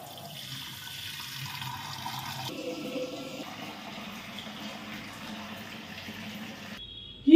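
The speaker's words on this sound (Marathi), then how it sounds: "आता हा माठ आहे ना मी पिण्याचं पाणी भरून ठेवते यामध्ये" Drinking water is poured into an old clay pot at home, a steady, moderately quiet trickle and gurgle that changes tone as the pot fills, then ends with a brief louder knock.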